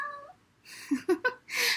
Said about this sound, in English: That's Kidney, our neighbor's cat.